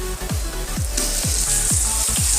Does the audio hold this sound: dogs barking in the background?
no